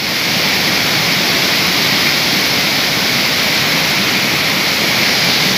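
The Satle waterfall in Dang, Nepal, roars as a dense, unbroken rush of falling water, loud and close throughout, with no voices.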